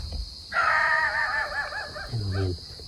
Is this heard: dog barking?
yes